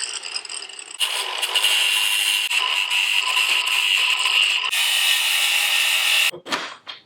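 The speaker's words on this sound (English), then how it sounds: "What I'm going to use to break the chain is this tool." A tool breaks a worn motorcycle chain during a chain and sprocket replacement. It makes a loud, steady, close-up whirring grind for about five seconds, then cuts off abruptly into a few brief rattles.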